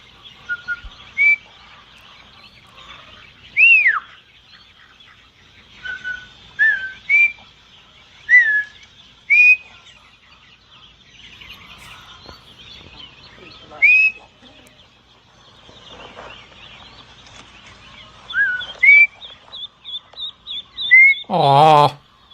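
Sharp, rising and falling herding whistle commands repeat in short bursts, directing a border collie working a flock of ducks outdoors; scattered bird calls and faint background sound sit between the whistles, ending with a louder wavering call.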